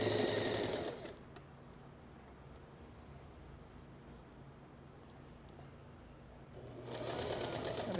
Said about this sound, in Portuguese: Tem que costurar igualzinho aqui.